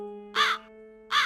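A cartoon crow caws twice, two loud, harsh calls spaced under a second apart, heard alone over a faint steady tone.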